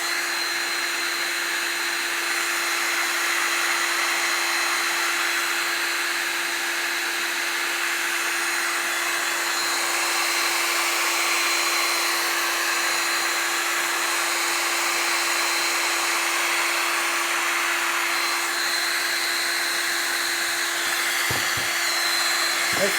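A heat gun turned down to low heat blows air across an ocean-wave epoxy resin pour, a continuous close whoosh with a steady tonal whine and no talk, ending in a couple of faint clicks.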